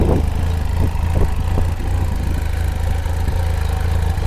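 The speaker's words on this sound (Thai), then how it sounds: "สตาร์ทฟังเสียงเครื่องยนต์ก่อน" A 2017 Benelli TRK 502 motorcycle engine idles steadily up close, a low even hum with light mechanical clatter and a small blip near the start.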